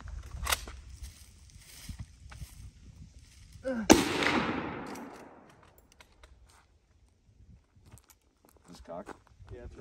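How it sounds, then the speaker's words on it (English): A two-gun salute: a sharp, short crack is followed a few seconds later by a much louder blast with a long fading echo. Voices and small movements surround the shots. "I want you to shoot both though, so I can actually hear it from the two-gun salute."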